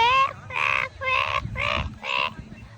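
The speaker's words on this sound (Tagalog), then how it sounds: "Mga loro yun." Harsh squawks from a noisy flock of parrots in a large tree in Melbourne come as five rhythmic bursts, fairly loud and close, over faint background rumble.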